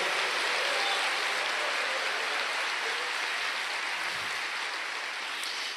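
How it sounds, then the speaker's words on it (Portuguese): Church congregation clapping and cheering during a sermon, a steady wash of applause at moderate distance that fades slightly toward the end, with no clear speech over it. "Quantos podem dar uma salva de palmas e um grito de glória aí?"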